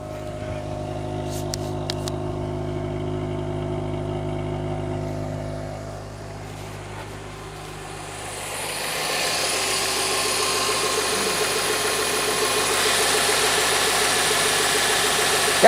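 A car engine with about half a million miles turns over on a cold start and settles into a steady idle, with a brief lull before the running engine grows louder and more constant.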